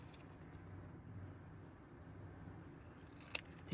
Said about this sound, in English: these other 4 get to be cut in half in a triangle. So corner to corner.